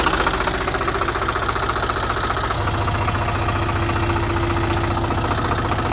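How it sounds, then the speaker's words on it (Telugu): Tractor engine running at a steady idle after starting, a loud, close, rhythmic low knocking chug that continues throughout without talk. "బండి స్టార్టింగ్లో ఉంది."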